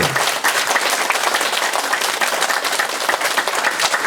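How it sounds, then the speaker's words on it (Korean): A studio audience on a Korean talk show breaks into loud, brisk applause, a dense sustained patter of many hands filling the whole stretch. "박수 한번 쳐주시죠"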